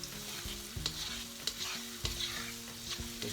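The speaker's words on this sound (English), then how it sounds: "of garlic, chopped garlic. Give it a nice little stir." Chopped garlic frying in a pan while being stirred, a continuous soft sizzle broken by several sharp scraping strokes of the utensil, close and fairly quiet, with no talking.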